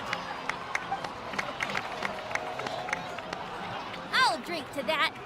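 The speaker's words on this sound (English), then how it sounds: "please give another round of applause for them" A crowd in the Genshin Impact video game claps and cheers at a moderate distance, a steady wash of applause that swells toward the end, with a voice speaking briefly over it.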